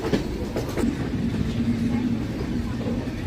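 A passenger train on the Guntur–Macherla line rolls along with a continuous low rumble and rhythmic wheel clatter, heard from on board at moderate level.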